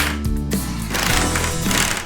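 A power driver sinks screws into pre-drilled holes in an old wooden headboard, a close, loud mechanical whirring in short bursts with a ratcheting edge.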